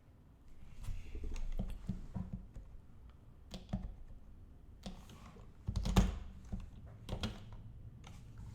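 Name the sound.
typing on a computer keyboard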